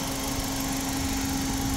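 A 2014 Kia Morning with an automatic gearbox and a 1.2 engine idles with a steady, smooth hum and a constant low tone, close and even, with no one talking.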